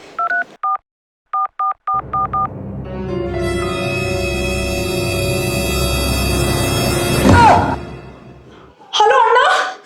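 A telephone number is dialed in a Kannada comedy short, a string of short DTMF keypad beeps in quick clusters, followed by a sustained tone and a ringing sound, clear and close.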